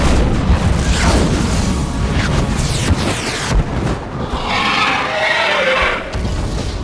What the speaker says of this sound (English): The red dragon suddenly swerves, spinning in the sky, and fires off a volley of fireballs at the silver dragon.